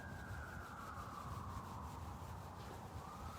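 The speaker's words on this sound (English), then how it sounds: "Find your palms and rub your palms together." Palms rub together outdoors during a yoga session on a field, a soft, continuous swishing friction that stays faint and even for a few seconds with no talking over it.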